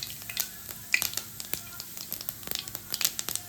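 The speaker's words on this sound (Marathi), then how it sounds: "तेल गरम झालंय, आता आपण त्याच्यात जिरं घालूया" Small spoonful of cumin seeds dropped into hot oil, crackling and popping in quick irregular bursts over a quiet kitchen background.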